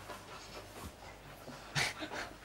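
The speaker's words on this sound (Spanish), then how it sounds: "Qué perro hábil, ¿eh?" A dog pants nearby in quick, soft breaths, with a sharper huff near the end, faint and close.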